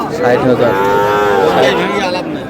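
A young bull calf of about five or six months moos once in a long, loud drawn-out call at a cattle farm in Cumilla.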